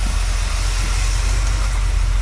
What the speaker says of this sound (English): Hear that hiss? And you hear how the engine kind of idles funny whenever I push it on the brakes?